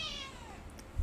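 A house cat meows for treats, one drawn-out, falling cry close to the microphone, followed by a soft thump.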